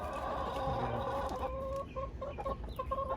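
Chickens cluck and murmur in a busy, overlapping chatter, fairly close, with short clipped calls repeating.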